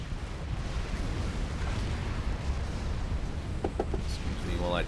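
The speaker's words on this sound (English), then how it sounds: "About to lose a T3 PGen. There it goes with all its volatility. It's glorious explosions." A T3 power generator in Supreme Commander blows up in a deep, rumbling game explosion that fills the whole stretch with heavy, sustained blast noise, followed by brief sharper effects near the end.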